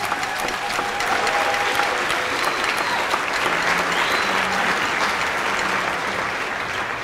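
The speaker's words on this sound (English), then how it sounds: "If we could have a round of applause" Dense, even applause from a school concert audience after a jazz band number, steady and loud throughout with scattered brief tonal sounds in the hall beneath the clapping.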